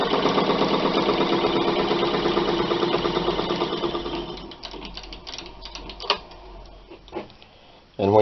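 A hand drill with a spoon bit grinds in a steady, rapid rhythm for several seconds while boring a pipe, then slows into scattered scrapes and knocks.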